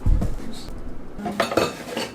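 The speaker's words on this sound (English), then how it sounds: "I hate doing dishes when there's dishes in the sink." Dishes, pots and cutlery clattering and clinking as they are washed in a kitchen sink, with a loud clunk at the start followed by scattered clinks and knocks up close.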